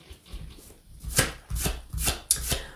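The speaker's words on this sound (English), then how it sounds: "Oh, shit, I'm shuffling backwards." Tarot cards shuffled by hand in several quick riffling bursts, close and fairly loud, each a rapid papery flutter separated by short pauses, with no talking.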